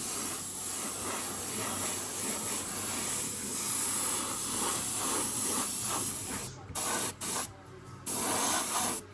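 An airbrush at roughly 25 to 28 psi lays light coats of thinned clear coat onto an MPC Raiders Coach model kit, giving a continuous close hiss that breaks into a few short bursts near the end.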